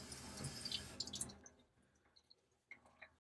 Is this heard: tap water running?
yes